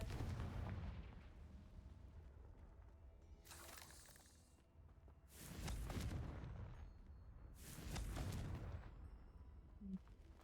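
Three heavy explosive blasts from the Confringo fire spell in the video game Hogwarts Legacy, each a sudden boom with crackling decay, spaced a couple of seconds apart over low rumbling game ambience.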